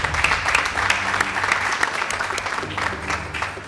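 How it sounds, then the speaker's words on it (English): An audience gives Strathmore School a round of applause at a school debate contest, lively close clapping with some louder individual claps and murmuring voices underneath. "Please give them a round of applause."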